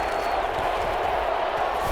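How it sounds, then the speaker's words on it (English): Steady, dense crowd roar from a Madden NFL 21 Lions versus Rams game on PS5, building ahead of a big third down; the broad wash of cheering holds evenly throughout with no clear breaks. "the crowd getting into it as we come up on a big 3rd down"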